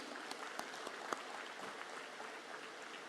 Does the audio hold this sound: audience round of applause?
yes